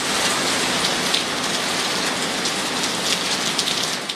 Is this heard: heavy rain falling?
yes